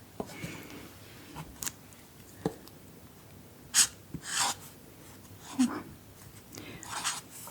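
Handwriting on paper during a softly spoken Danish lesson, heard as close, quiet pen scratches and scattered taps with gentle breathy pauses between strokes.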